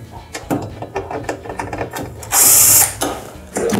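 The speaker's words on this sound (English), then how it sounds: "we're gonna remove the harness retaining screws." A ratcheting driver clicks in quick repeated bursts while harness retaining screws come out of a Maytag washer, with a louder whirring spin near the end, close and clear.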